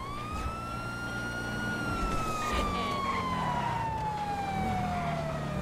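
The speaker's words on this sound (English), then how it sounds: "I'm gonna put our sirens on." A police car siren in the video game GTA 5 wails with a single slowly falling tone over a low engine rumble, fairly faint and steady throughout.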